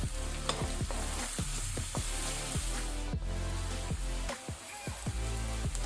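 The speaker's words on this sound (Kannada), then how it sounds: "ಈರುಳ್ಳಿ ಸ್ವಲ್ಪ ಪಿಂಕ್ ಆಗಲಿ, ಗುಲಾಬಿ ಬಣ್ಣ ಬರೋ ತನಕ ಫ್ರೈ ಮಾಡ್ಕೊಳ್ಳೋಣ" Onions with green chilies frying in a pan for egg fried rice, a loud steady sizzle broken by regular rhythmic scrapes of a spatula stirring against the pan.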